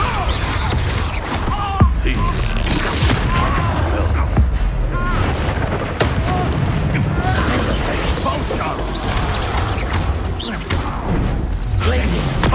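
Spell combat in Hogwarts Legacy on PC with Expulso blasts: dense, continuous booms, crashes and magical impacts piling up loudly, with a voice calling out over the fighting.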